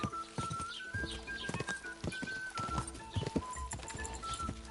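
A horse's hooves clip-clop rapidly in a video game as it runs, the quick rhythmic beats mixed with game music and ambient effects.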